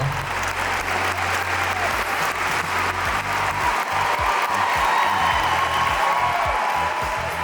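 A large audience applauds steadily and loudly as Trevor Noah walks onto the stage at a DePauw University lecture, with the clapping sustained throughout and a faint voice underneath.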